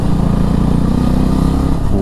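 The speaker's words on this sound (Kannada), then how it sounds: "ನನ್ನ ಗಾಡಿ ಎಕ್ಸಾಸ್ಟ್ ಬೇರೆ ಬಡ್ಕತ್ತ ಕೂತೈತಲ್ಲಪ್ಪ" Motorcycle exhaust roaring loudly and steadily up close while riding toward Karighatta hill near Srirangapatna, a continuous throbbing engine drone with no talk.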